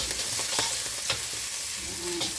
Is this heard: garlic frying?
yes